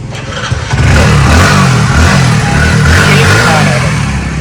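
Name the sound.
used motorcycle engine starting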